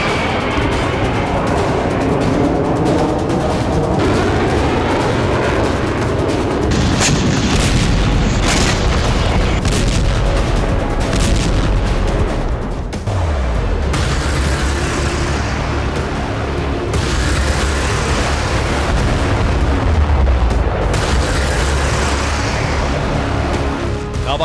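Russian missiles and FAB-500 bombs strike Kyiv and central and western Ukraine. The blasts form a loud, continuous roaring rumble with repeated heavy booms and sudden bursts throughout.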